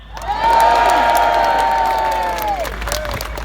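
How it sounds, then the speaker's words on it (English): A Brexit protest crowd outdoors cheers and whoops in a swelling roar that holds and then fades, with a sustained whistle-like tone riding over the noise. "Give them a cheer!"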